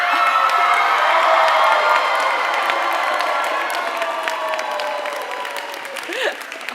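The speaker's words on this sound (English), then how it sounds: "So if you would humor me and jump up and scream, I'm gonna take a video." A commencement crowd at a 2025 graduation jumps up and screams together, a loud, sustained wall of cheering, whooping and applause that slowly thins toward the end, with a few voices standing out.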